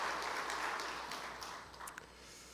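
Faint applause from a church congregation during a Sunday afternoon service, distant and thin, tapering off with a few scattered claps near the end.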